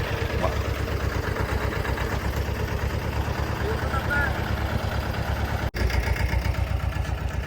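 A truck engine idles steadily and close by in rainy weather, a continuous low rumble that runs unbroken apart from one brief dropout near the end, with a hint of voices in the background.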